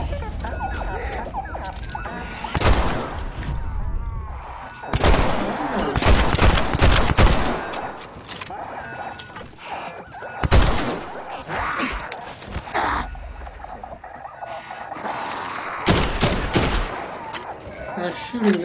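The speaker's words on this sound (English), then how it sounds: "The shooting is going to attract a lot of attention as well." Gunfire fills the Dead Island 2 video game scene, with bursts of rapid shots and single loud cracks coming in clusters, mixed with grunts and game effects, and a voice talking between volleys.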